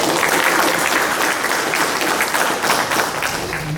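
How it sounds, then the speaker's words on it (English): Audience applause at a Brazilian jiu-jitsu guest speaker event at UCF: a dense, steady wash of clapping that holds at full strength from start to finish, with no voices standing out. "So I want you guys to give it up a big hand of applause."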